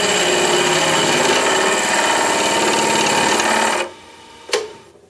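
A mini lathe cuts metal with a steady, loud, close grinding whir that holds for several seconds and then stops abruptly. A single sharp click follows in the quiet.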